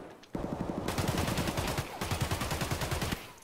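Rapid bursts of automatic gunfire in the shooter game Escape from Tarkov, set in the Factory map, with drum-magazine fire: two sustained strings of close, loud shots separated by a brief pause.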